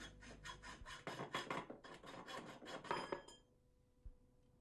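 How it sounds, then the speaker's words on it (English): A heating pipe being trimmed to length, with a steady series of rasping cutting strokes for about three seconds before it stops, leaving near silence and one soft knock. "Trim the pipe to length as required."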